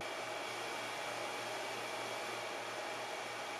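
Pixthink D100 budget projector cooling fan giving a steady, even broadband whoosh with a faint low hum, constant and quiet, heard close to the unit with no other sounds.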